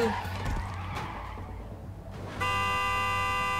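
In the Clustertruck video game, a truck horn sounds suddenly as a sustained, loud, steady blare. Before it, a rumbling engine and rushing motion noise play.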